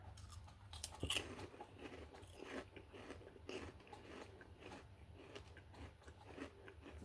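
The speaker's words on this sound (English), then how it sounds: "They are very light and airy with a little bit of a crunch" Light, airy Asian snack chips crunched close up, faint sporadic bites and soft crackly chewing with no talking.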